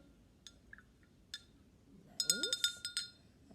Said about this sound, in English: I'm going to stir that around so you can see that it's yellow